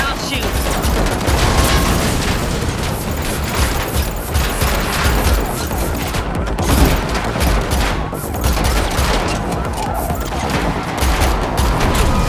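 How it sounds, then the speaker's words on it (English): Sustained heavy gunfire in The Matrix Awakens, aimed at a vehicle's tires during a chase, a dense, loud, continuous barrage of shots mixed with mechanical clatter and rumbling, with voices partly audible beneath. "Shoot the tires."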